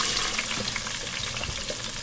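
Tomato sizzles and fries steadily in a pan for a Sicilian Pasta alla Norma, with a continuous crackling hiss close by and occasional soft stirring clicks, no voices.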